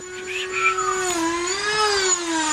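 A power tool trims the corner of a KBD front bumper on a 350z, its high whining motor holding a steady pitch with slight wavering as it cuts, loud and close.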